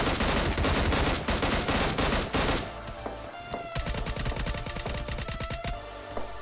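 Rapid automatic gunfire from the mobile battle-royale game PUBG Mobile Lite rattles out in dense bursts, loud and continuous at first, then thinner, more spaced volleys of sharp shots with no talk.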